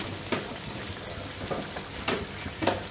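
Tomatoes fry in oil with onion and ginger-garlic paste, giving a steady soft sizzle broken by a few brief scraping stirs.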